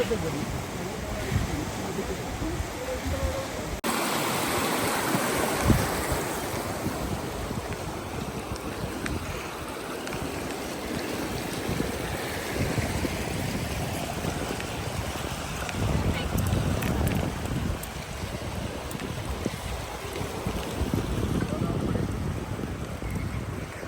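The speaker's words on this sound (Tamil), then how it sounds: "இந்த தண்ணி இப்போ குறைவான வேகமே இப்படி போகுது" Strong river current rushing past the damaged Vattuvakal bridge in Mullaitivu after a storm, a continuous broad wash of water mixed with heavy wind buffeting on the microphone, with voices faintly present.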